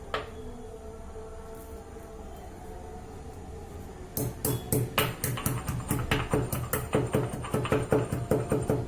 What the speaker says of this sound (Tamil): இதை நல்லா கொஞ்சம் உரலில் கொஞ்சம் 1-2 தட்டி நம்ம ஆட் பண்ணிக்கலாம்